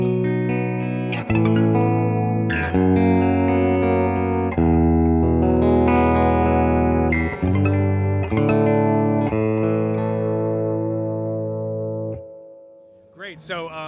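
Fender Player Series Lead electric guitar with a thick, overdriven Alnico bridge humbucker tone through a Deluxe Reverb Tone Master amp plays sustained chords and riffs, loud and close, ending in a brief noisy flourish.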